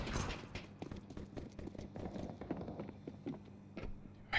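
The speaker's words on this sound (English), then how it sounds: "I hear so many footsteps." Many footsteps sound in a Counter-Strike 2 match. A dense run of quick thuds and scuffs keeps steady and fairly close, with no speech over them and a sharper burst at the end.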